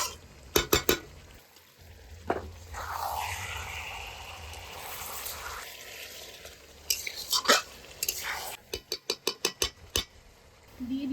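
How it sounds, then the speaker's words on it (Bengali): Chicken pieces being sautéed in a pan for Hyderabadi green chicken, with a utensil scraping and clacking against the pan in quick bursts over a soft sizzle, close and fairly quiet. "মাংসগুলো এরকম করে কষিয়ে নিতে হবে"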